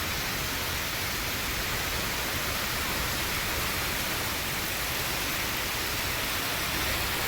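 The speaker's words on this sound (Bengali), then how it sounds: "এতটা জোরে বৃষ্টি হচ্ছে" Heavy monsoon rain pours down over a village, a dense, steady roaring hiss that fills the whole clip without pause and with no voices.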